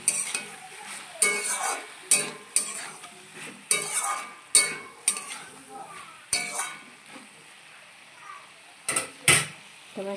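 Spinach curry being stirred with coriander leaves in a pan: repeated scraping, clinking strokes in an irregular rhythm over a faint sizzle, close and moderately loud, with no voice.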